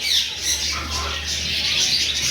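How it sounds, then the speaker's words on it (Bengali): Harsh, raspy African grey parrot squawks close by at a bird market in Mirpur-1, a continuous rough screech lasting a couple of seconds with no talking. "এখানে আছে আফ্রিকান গ্রে প্যারট"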